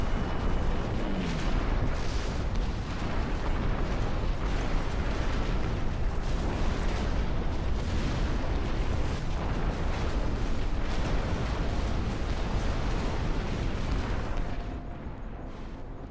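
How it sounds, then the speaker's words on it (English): Mortar fire and explosions rumble through a real-time strategy battle in Ashes of the Singularity, a dense, continuous barrage of booms and bursts running for about fifteen seconds before easing slightly at the end. "Oh, there's mortars."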